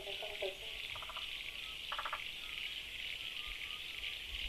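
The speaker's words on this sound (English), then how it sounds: "you hear the frogs croaking" Short bursts of frogs croaking from a nearby swamp at the start and again midway, over a steady high insect-like drone and faint background noise.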